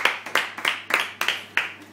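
Steady rhythmic hand claps, about seven sharp slaps at an even pace, ring out close and clear during a strong pizza eating challenge in Denmark.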